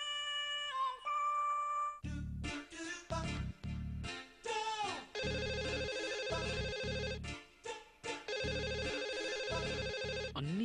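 A telephone rings in a household drama scene, its repeated electronic ringtone bursts cycling loudly and steadily with short gaps, alone without talk.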